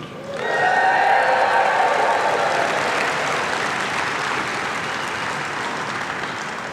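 Delegates at a UCP party AGM policy plenary break into applause that swells quickly to a full, dense clatter and then holds steady, slowly easing off, with faint cheering mixed in.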